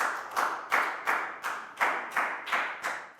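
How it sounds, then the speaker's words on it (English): Year 4 pupils in a math lesson clap together for the whole class, roughly eight crisp claps at a quick, even beat, near and clear, without any speech. "And round of applause for everybody doing a great job"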